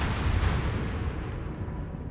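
Torpedo hit explosion in the World of Warships naval battle game, a loud rumbling blast with a strong low-end boom that fades slowly over about two seconds, with no talk over it.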